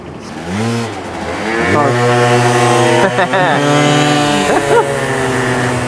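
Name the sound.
Aprilia SR50 scooter engine revving and bogging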